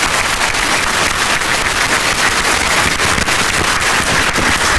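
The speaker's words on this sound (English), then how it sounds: "Let's give another round of applause to all of our panelists today" A conference audience applauds the panelists, dense steady clapping from many hands that fills the whole stretch at constant loudness, with no voices over it.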